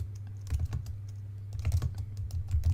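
Quick bursts of keystrokes on a computer keyboard, close and clear over a steady low hum, arriving in two uneven flurries of taps with no voice.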